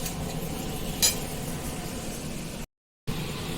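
Chorchori made with sweet pumpkin stalks is stir-fried, giving a steady, hissy sizzle with a light scrape of stirring near the start. The sound drops out briefly toward the end, then resumes.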